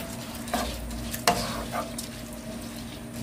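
Vegetables and rice stir-fried over high heat for porridge: a steady frying sizzle with a few scraping stirs of a utensil in the pot, close and moderately loud, no talking.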